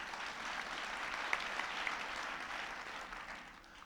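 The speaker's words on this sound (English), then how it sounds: "I'm glad you're clapping for that" Steady applause from a conference audience at a children's advocacy gathering, a dense continuous wash of many hands clapping that holds for several seconds and tapers slightly at the end.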